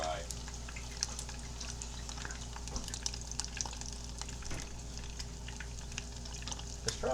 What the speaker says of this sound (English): we just kind of dump them on in and let them fry